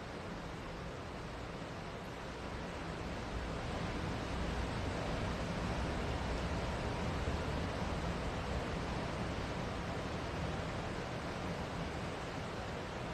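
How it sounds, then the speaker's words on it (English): Continuous broadband roar of surf, waves washing in a steady wash without pause or voices. "What you hear in the background is the waves."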